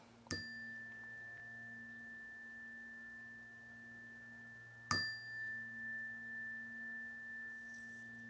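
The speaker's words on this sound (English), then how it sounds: "Let's do a little chime action." Chimes rung for a sound cleansing: two separate bright strikes, each ringing out into long, clear, sustained tones that slowly decay in a quiet room.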